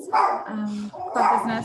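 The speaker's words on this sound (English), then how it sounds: "Sorry about the barking." A dog barks twice in the background during an online Toastmasters club meeting, the short barks mixed in under someone speaking.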